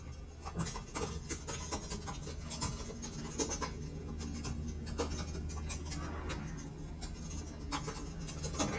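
Pen scratching on paper while names are written down, a steady soft scribbling with small ticks and taps throughout, fairly close, with no talking over it.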